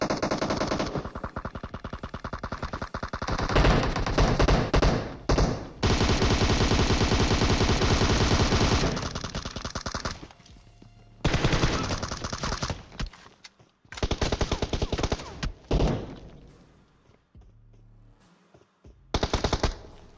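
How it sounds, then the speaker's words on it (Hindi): Rapid bursts of automatic gunfire in the game PUBG Mobile, loud and close, firing in long sustained volleys separated by brief pauses, with no talking. "अब गोलियां चल रही है दबा के"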